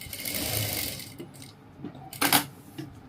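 A sewing machine stitches piping onto a suit, whirring in a close, steady burst, then pausing, then giving a shorter run with sharp mechanical clicks.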